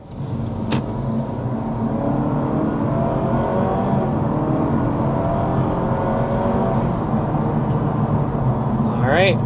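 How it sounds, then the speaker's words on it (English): A 2026 Honda Civic Hybrid under hard acceleration, a steady cabin drone of engine and road noise building gradually for several seconds, with a brief whir near the end. "let's start with a hard acceleration"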